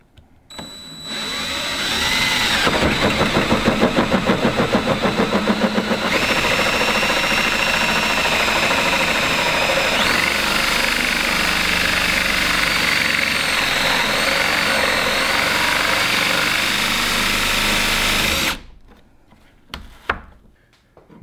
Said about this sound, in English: Once you finish drilling the hole out, you're left with the hole for the hinge